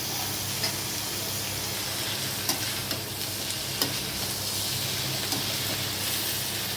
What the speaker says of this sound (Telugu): దొండకాయలన్నీ వేసేస్తున్నాను. వేసి బాగా కలుపుకోవాలి.